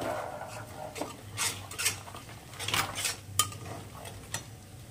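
Veg bhuna khichuri being stirred in a pan in a home kitchen, with a utensil scraping and clinking against the metal in irregular close taps over a low steady hum, no talking.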